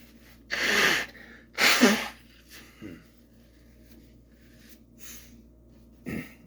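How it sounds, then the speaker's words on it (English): Someone blowing their nose, two strong forceful blasts close to the microphone followed by a few fainter sniffs and snorts with quiet pauses between. "I need to blow my nose."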